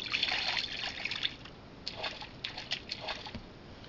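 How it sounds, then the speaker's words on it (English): Soft trickling and splashing water from a koi pond app, a faint burst of dribbling followed by several small, scattered liquid plips and squishes. "The water sound effects are very nice though."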